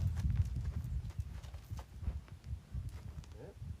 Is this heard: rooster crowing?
no